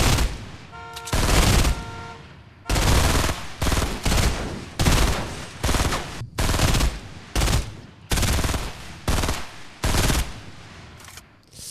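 A burst weapon in a video game fires rapid automatic volleys, loud and close, in repeated bursts separated by brief gaps as ammunition empties quickly.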